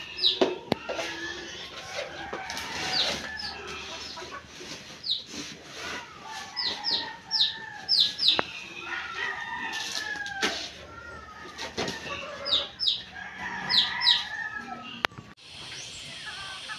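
Hens clucking and a rooster calling around a farmyard, scattered clucks and sharp chirping calls spread throughout, with occasional knocks and rustles and no talk.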